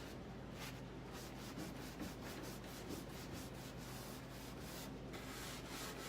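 Steady rubbing and sanding of clay paint off detailed wooden furniture to distress it, a continuous close scratchy friction with rhythmic back-and-forth strokes, no talking.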